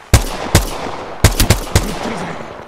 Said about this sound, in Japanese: 撃ってるぜ。